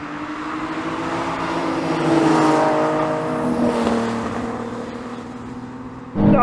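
Nissan Z cars race in a drag race, an engine roaring and revving as it sweeps past, swelling then easing, with a sudden loud burst at the very end.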